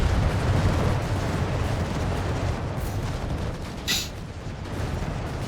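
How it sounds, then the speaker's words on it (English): Airburst artillery shells explode in the strategy game Company of Heroes 3, a dense rumbling barrage of distant booms with one sharper pop standing out near the end. "We got airburst shells there, trying to flash out the Germans."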